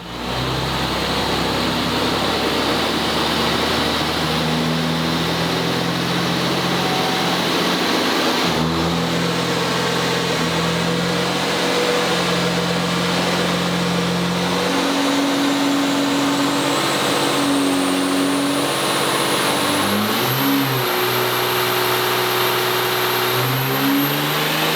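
Race truck engine on a power run, a loud sustained roar that revs in stepped climbs, easing back briefly near the middle before pushing higher again with a rising whine toward the end, with no voices.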